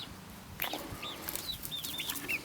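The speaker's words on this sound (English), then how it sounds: "I've got a little chicken picking at my foot" Soft clucks and short peeping calls from a young chicken about two months old, close by and fairly quiet, a few scattered chirps over low outdoor background noise.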